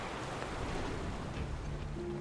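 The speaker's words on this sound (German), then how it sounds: "Damit wird das Wasser ausgelassen." Water drains through a sewer in the Final Fantasy 7 Remake video game as a steady, broad rushing wash, fairly quiet and continuous, with a faint low tone entering near the end.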